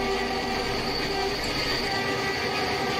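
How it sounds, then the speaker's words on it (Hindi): An ALCO diesel locomotive engine in the MSTS/Open Rails train simulator drones loudly and continuously, its tonal whine layered over a constant rail rumble. "आगे जाके एल्को लोकोमोटिव की छगिंग साउंड सुनते हैं"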